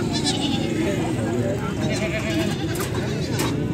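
Dairy goats with their kids bleat at a crowded livestock market in Faisalabad, several animals calling over a dense, loud background of people talking.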